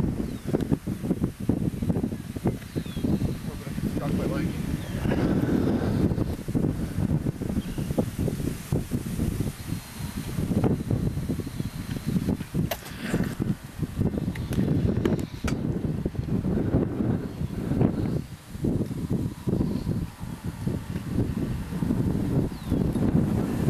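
Steady roaring wind with gusts buffeting the microphone in central Kansas, a continuous rumbling rush that surges and eases with no pause.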